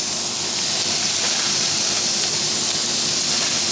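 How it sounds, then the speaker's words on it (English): Shrimp on a griddle give a continuous loud hissing sizzle, steady and close, with no talk over it. "I want to do this on camera so you can hear the sizzling."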